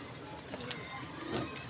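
A pigeon at a pigeon club coos softly in short, low calls against a steady background hiss. It sounds faint and somewhat distant.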